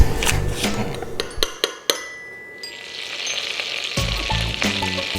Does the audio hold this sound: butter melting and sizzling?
yes